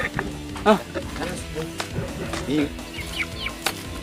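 Chickens cluck and squawk in a few short bursts at close range, mixed with rustling and people talking over them in a Sundanese comedy scene about a bird contest.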